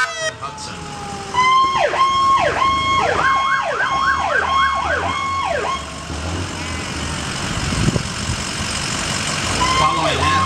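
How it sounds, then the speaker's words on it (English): A Ford Expedition hazmat duty officer vehicle rolls through a parade with its electronic siren yelping in rapid rising and falling sweeps, loud and near, then fading into an air-horn blast and crowd noise. "It's a Ford Expedition duty officer vehicle under the command of Captain Hudson."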